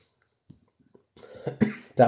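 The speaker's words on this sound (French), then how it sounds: "Excusez-moi, je tousse un peu ce soir." A few short coughs and throat noises, close and moderately loud, after a quiet stretch with faint small sounds.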